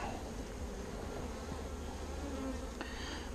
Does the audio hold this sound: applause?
no